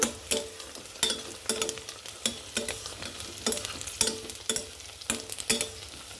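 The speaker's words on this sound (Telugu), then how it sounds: "ఇదిగోండి సైడ్కి వేసి కాసేపు అది ఫ్రై అయిన వరకు వేపుతాను" Cashew nuts frying in oil in a pan for veg biryani, with a steady soft sizzle punctuated by regular sharp scrapes and clacks of a spoon stirring, close and alone with no voices.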